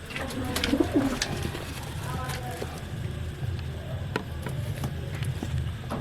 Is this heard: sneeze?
no